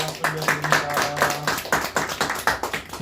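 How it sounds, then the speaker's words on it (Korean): A church congregation claps in praise to God, a brisk, rhythmic, fairly loud run of many hands, with a voice and a sustained tone sounding beneath the clapping. "주님께 영광의 박수 올려드립니다"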